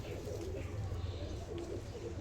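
Soft, low coos from Giribaz pigeons repeat over a steady background murmur and rustling.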